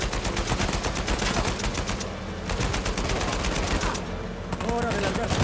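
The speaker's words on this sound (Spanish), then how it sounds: "¿quién me está disparando?" Sustained gunfire in an Uncharted 4 shootout, with many rapid shots rattling in clustered bursts and brief pauses between them, heard at moderate distance with other battle noise mixed in.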